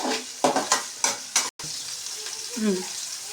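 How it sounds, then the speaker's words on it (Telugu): Semolina mixture with salt stirred in a pan for uppudu pindi, a run of sharp scraping strokes followed by a steady frying sizzle, close and fairly loud with no talking. "దానికి తగినంత సాల్ట్ కొంచెం అంతా కలుపుకోవాలి. అడగంటకుండా కలుపుకోవాలి."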